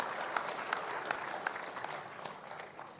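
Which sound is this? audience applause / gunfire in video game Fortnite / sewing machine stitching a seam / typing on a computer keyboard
audience applause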